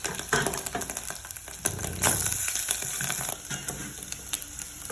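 Meat sizzling in a hot pan with onions, lemon and a little vinegar added, bursts of crackling and stirring clatter that swell and settle, close and loud with no voices.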